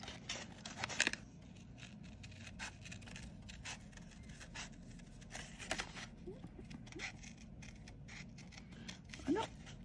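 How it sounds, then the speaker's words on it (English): Scissors fussy cutting a hedgehog shape out of paper for a papercraft project, giving soft snips and rustles at close range, quiet, with a couple of sharper cuts near the start and end. "I want to fussy cut the hedgehog out of here."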